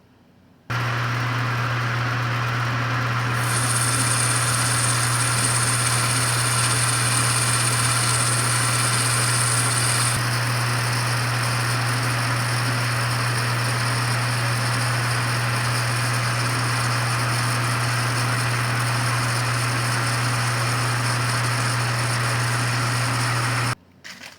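A milling machine with a carbide cutter works a steel slide, giving a loud continuous mechanical drone and whine that holds steady for over twenty seconds with no pauses.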